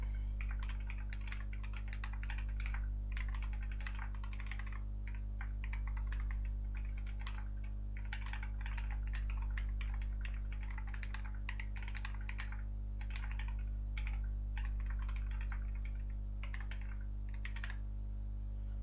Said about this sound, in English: typing normal uncapitalized letters is good, but typing like capital letters with everything like this is fucked up